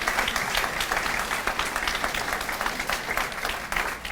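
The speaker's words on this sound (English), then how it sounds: "Give him a round of applause." Applause fills a room at an all-sports banquet: a steady, dense wash of clapping from a sizable audience, continuous for several seconds at an even loudness, with no voices standing out.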